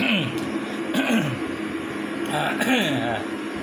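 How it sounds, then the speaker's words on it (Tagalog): A person coughs and clears their throat several times in short bursts over the steady mechanical hum of a water steam cooler, close and fairly loud. "Inuubo tayo ngayon."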